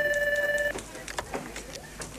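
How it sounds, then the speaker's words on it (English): A telephone rings in an office, a warbling electronic trill pulsing rapidly before it cuts off abruptly, followed by faint clicks and handling noises with soft background voices. "That's the manager's phone."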